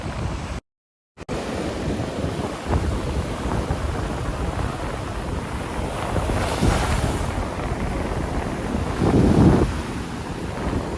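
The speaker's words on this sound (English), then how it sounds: "I'll let you guys just enjoy the sound of the ocean as we kind of end this video." Ocean surf rolling onto a beach, a steady wash of waves with wind buffeting the microphone, swelling louder near the end, with no talking.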